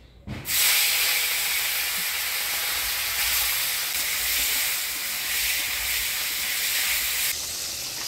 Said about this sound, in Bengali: তেল গরম হয়ে গেছে, এবার মাছগুলো দিয়ে দিচ্ছি।